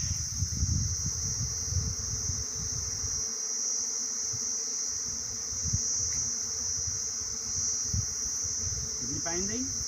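Honey bees buzz steadily around a hive, a continuous insect drone with a few brief louder passes close by over a constant high whine in the background.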